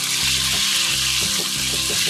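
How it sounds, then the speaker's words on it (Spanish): Salt-and-pepper seasoned chicken pieces frying in hot oil for a chicken saltado, giving a loud, steady, close sizzle and crackle throughout. "ahora que ya tenemos caliente nuestro aceite, vamos a agregar el pollo que ya lo tenemos salpimentado"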